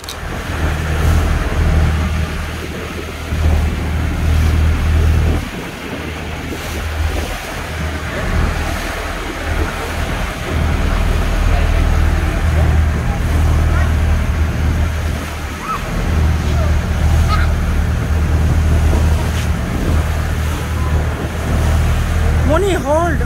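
A tour boat out on the sea at Dubrovnik, with loud, continuous engine rumble, rushing water and wind buffeting the microphone throughout, steady and close, with occasional voices faintly underneath.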